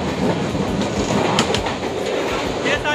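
The Malwa Express, an Indore to Katra passenger train, runs over the rails with a loud, steady rumble, a rhythmic clickety-clack from the wheels and a few sharp metallic accents.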